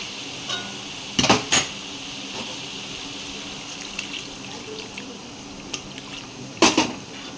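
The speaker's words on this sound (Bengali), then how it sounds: "এবার আমি এতে পরিমাণ মতো জল দিয়ে দেবো" Water poured into banana blossom curry cooking in a pan, a low running splash under a faint background hiss, with a few sharp clatters of a vessel near the start and end.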